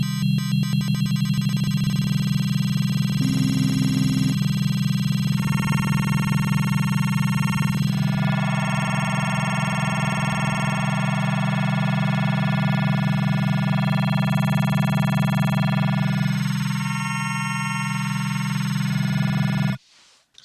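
A buzzy wavetable synthesizer drone on a Synthstrom Deluge holds a low note while bright upper tones shift and pulse rapidly under fast square-wave LFO modulation, stepping through changes before cutting off abruptly.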